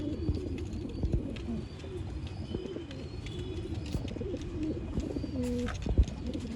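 Pigeons of an old line breed coo repeatedly in a loft or shop in Bangalore, a steady murmuring chorus of low throaty calls close by with some rustling.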